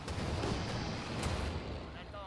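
A targeted cannon shot fired through trees in the strategy game Company of Heroes 2 gives a loud, sustained booming rumble with a sharp crack near the middle, heavy and close throughout.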